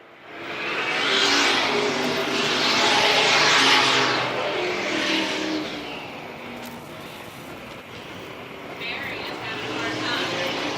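Vintage race cars roar past on a South Carolina oval in Dillon during the Southern Vintage Nationals, car number 21 leading through lapped traffic, engines swelling loud then fading, with an announcer talking over the continuous rumble.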